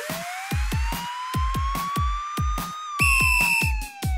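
An animated children's song police car siren wails in a smooth rising and falling tone, loud and clear, over a steady bouncy drum beat and a brief higher chime near the end.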